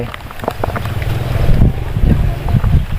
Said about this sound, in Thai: ลมแรงแล้วตอนนี้